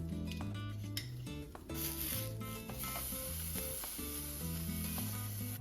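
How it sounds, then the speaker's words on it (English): A cheese-filled taco sizzles and fries steadily in a pan, a soft continuous hiss heard alone with faint background music. "I'm gonna fold the taco up. Just gonna let the cheese melt for a bit."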